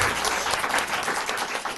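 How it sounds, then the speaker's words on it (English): An audience in a Texas committee hearing room breaks into a dense, loud round of applause, many hands clapping together in a continuous wash that holds steady throughout. "you can give her a round of applause"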